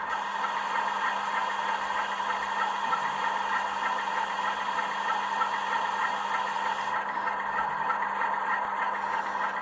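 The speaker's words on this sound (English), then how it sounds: "This function is a sounding valve." Class 47 model locomotive sound decoder playing a steady droning diesel engine idle with rattling, holding loud and even throughout, a high whistling valve tone cutting out near the end; no voices.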